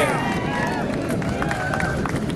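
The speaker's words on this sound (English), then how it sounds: "Give her a big round of applause." A dense, steady wash of crowd applause at an outdoor Medicaid expansion rally, honoring a singer, holds at an even level throughout, with a few voices faintly mixed in.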